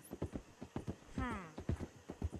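Horse hooves clip-clop in a steady rhythm through the whole stretch, with a loud whinny rising and falling in the middle, in the Red Dead Redemption 2 video game; the hoofbeats are near and prominent.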